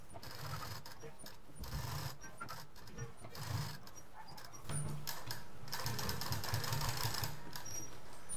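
A home sewing machine double-stitches fabric for a household iron cover, giving a steady mechanical whir with a faint rhythmic chatter that grows slightly louder partway through, with no talking.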